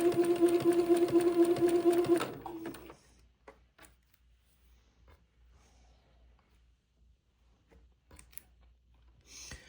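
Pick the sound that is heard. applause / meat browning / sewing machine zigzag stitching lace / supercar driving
sewing machine zigzag stitching lace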